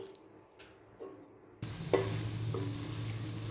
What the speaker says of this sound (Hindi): यहाँ पे अब मैं 3 से 4 मिनट के लिए अच्छी तरह से इसको मसालों के साथ भुनाई करूंगी